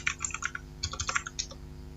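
Quick keystrokes on a computer keyboard entering a short system update command, a close, quiet run of light clicks in two small bursts with a brief pause between.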